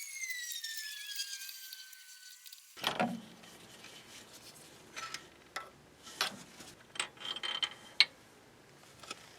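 A tool turns to back out a seized spark plug, giving faint, intermittent metallic ticks, clicks and rubbing scrapes after a brief whine at the start, quiet and close with no talk.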